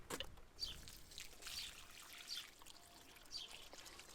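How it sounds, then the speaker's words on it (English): Water poured onto a freshly planted tomato in its soil, a soft, faint trickle and splash that comes in brief uneven bursts. "I'm just going to add some water."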